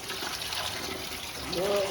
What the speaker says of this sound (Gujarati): ઉપર ઠંડુ પાણી નાખી દેવાનું